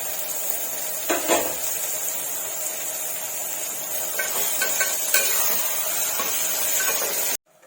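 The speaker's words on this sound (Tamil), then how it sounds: "இப்ப நம்ம எடுத்து வச்ச உருளைக்கிழங்கு முருங்காவே ஒன்னா போட்டு வதக்கிக்கலாம்." Potatoes and drumsticks sautéing in a pan for a mutton curry, a steady close sizzle with hissing steam and a few soft stirring scrapes, no voices, ending abruptly.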